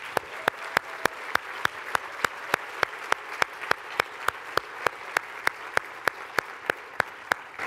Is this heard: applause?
yes